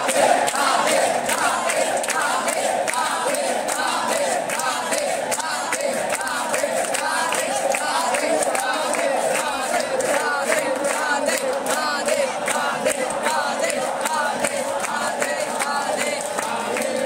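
A huge crowd packs the Barsana temple during Holi in Mathura, a dense, continuous roar of many voices shouting and chanting at steady loudness throughout.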